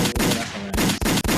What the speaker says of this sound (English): Joe, give him some gunshots for being single.